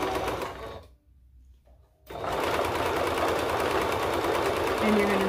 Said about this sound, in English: And you're gonna sew around the armhole.